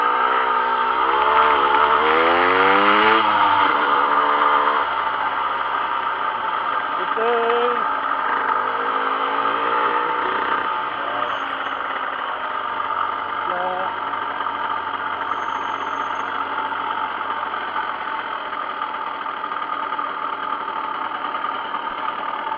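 A 2007 Derbi GPR Nude motorcycle engine idles steadily nearby for the whole stretch, a continuous mid-pitched drone with someone talking over it at the start and now and then later.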